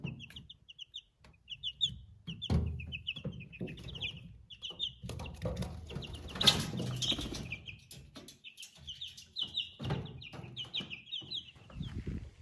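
Chicks inside a chicken coop keep up rapid, high peeping and cheeping throughout, with lower clucks, wing flaps and scuffling bumps close by, no talk.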